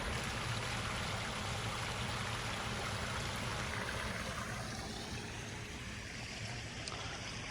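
A waterfall pours beneath a bridge at an outdoor park, giving a steady, dense rushing wash of water that holds even throughout, with no voices.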